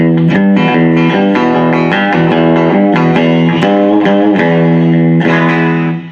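Loud distorted electric guitar with reverb, chords ringing out in a steady rhythm with a washy tail, pushing the amp, played alone without voices.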